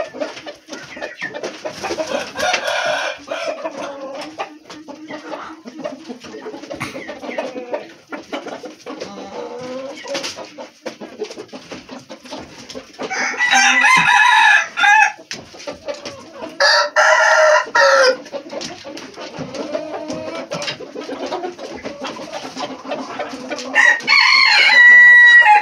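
Chickens cluck continuously in a farmyard while a rooster crows loudly several times, with a few long, strident calls standing out over the busy flock.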